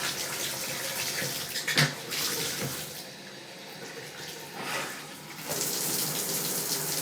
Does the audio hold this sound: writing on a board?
no